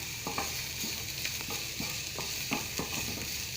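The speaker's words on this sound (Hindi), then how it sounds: "सिर्फ ये सब्जियां इधर हमारी हल्की हल्की सी फ्राई हो रही हैं" Vegetables for potato cutlets lightly frying in a pan, a steady soft sizzle broken by a few sharp scrape-like stirring taps, close and moderate in level with no voices.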